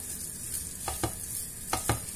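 Chopped green olives are stirred into a chicken liver filling sizzling in a pan; a constant frying hiss carries four quick spoon scrapes in two close pairs.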